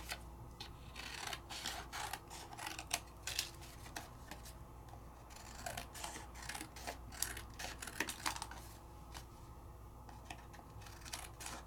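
Stamped paper pieces trimmed out with scissors at a craft table, a quick irregular run of crisp snips close by, some in tight clusters, with no talking.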